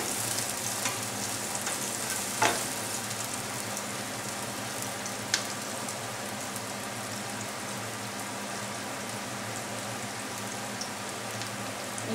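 Sliced onions sizzle and fry steadily in a pan for vegetable pasta, a continuous dense crackle with a couple of sharp clinks from stirring, close and moderately loud.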